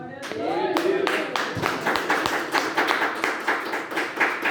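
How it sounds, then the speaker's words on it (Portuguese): A church congregation claps together in a lively, uneven rhythm, sharp hand claps repeating throughout, with voices faintly mixed in among the applause. "Vamos bater uma rica salva de palmas para Jesus?"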